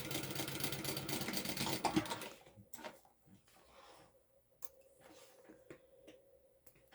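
A sewing machine stitches a bag lining to its outside piece in a short loud burst, then stops, followed by quiet handling sounds, soft clicks and faint movement.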